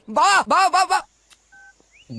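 Telephone dialing tones: a short burst of voiced tones, then a few quiet pauses, a brief sharp tone and a steady beep, then a low hum at the end. Heard close up.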